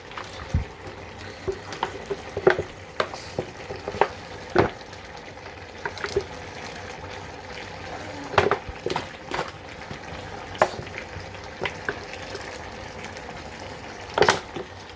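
Palm oil heats in a pot for eru, giving soft bubbling and sizzling with scattered pops and crackles over a low simmer, close and steady with no talking.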